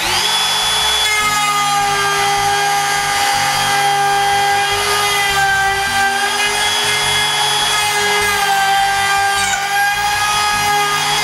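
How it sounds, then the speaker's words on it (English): Router trimming excess formica edging flush along a plywood edge, a loud, steady high-pitched motor whine with cutting noise running continuously without talk. "To remove the excess, I used a combination of a router and a rasp."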